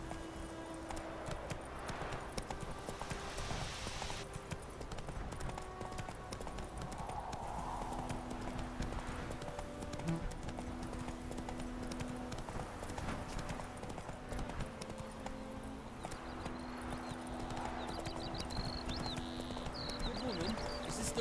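Horse hooves clip-clop steadily while riding in The Witcher 3, a continuous rhythmic gait close by, layered over game music and ambient sound with occasional talk.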